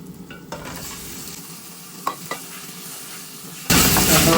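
Sardines sizzle in a pan with a soft steady hiss, broken by a few light scraping stirs, before a loud burst of sizzling near the end.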